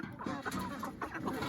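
Chickens cluck continuously up close in a dense, overlapping chorus of short calls, with no break across the clip.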